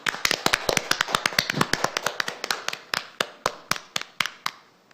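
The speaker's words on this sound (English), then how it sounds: "Please give our new Vice Presidents a round of applause." Scattered clapping from a small group at a WeGO General Assembly session, sharp separate claps at first that thin out and slow to a few last ones near the end.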